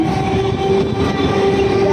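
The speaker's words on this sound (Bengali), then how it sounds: "ট্রেন যাচ্ছে এটা যাচ্ছে হাসনাবাদ" A local train bound for Hasnabad runs past a station, a loud, steady rumble of wheels and carriages with a sustained horn tone, close by and filling the whole moment without any talk.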